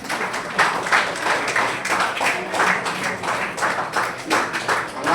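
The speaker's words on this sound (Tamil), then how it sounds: "கைத்தட்டுன்னு பார்க்கலாம்." A church congregation at Sunday mass in Savalur claps together, a dense, continuous, fairly loud patter of many hands that swells and dips in a steady rhythm.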